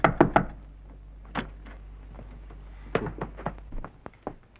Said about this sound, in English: A good idea to knock first.